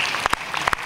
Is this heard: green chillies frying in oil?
no